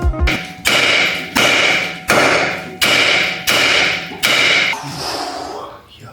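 Hammer blows slam repeatedly on a stuck car bracket, six loud metallic strikes at a steady rhythm with a ringing tone that decays between hits, close up, with no speech.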